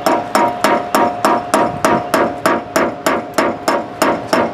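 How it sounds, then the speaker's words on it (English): A heavy-duty socket repeatedly whacks the starter solenoid of a 1966 Ford Galaxie Fastback, about fifteen loud, evenly spaced metallic knocks with a ringing tone, close up and steady in rhythm. "this starter solenoid needs to be whacked with a hammer"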